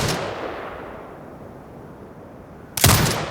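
A turret fires on command in Sniper Ghost Warrior Contracts 2, a single loud burst of gunfire arriving abruptly after a quiet fading stretch.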